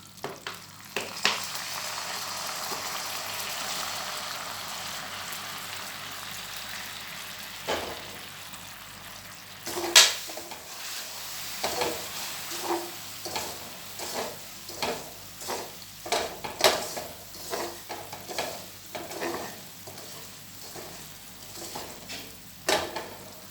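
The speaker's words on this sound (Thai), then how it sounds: "เคี่ยวน้ำตาลให้เหลืองก่อนนะคะ เกี่ยวไฟอ่อนนะคะ แล้วเราจะใส่น้ำปลาลงไปค่ะ" Sugar is simmered over low heat until golden, then fish sauce goes into the pan for braised pork belly and eggs, giving a sustained bubbling sizzle followed by repeated stirring knocks and scrapes against the pan.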